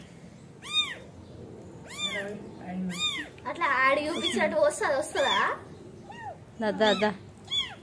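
A small kitten meows repeatedly, a run of short, high, rising-falling cries close by, with several clustered together midway, while a person talks over and between them.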